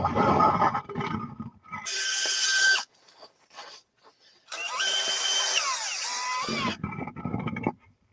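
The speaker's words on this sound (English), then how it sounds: "The fastest way to drill a hole, measure the ice, and make sure you're good." A powered ice auger bores a hole through about two feet of lake ice, running in two loud sustained bursts separated by a short pause, with voices heard in between.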